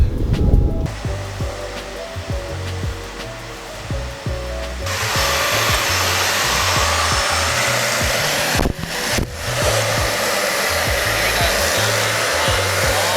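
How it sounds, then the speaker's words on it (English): A loud, steady whooshing motor roar like a vacuum cleaner, running continuously and close by, its pitch shifting slightly partway through. "You like the new vacuum cleaner?"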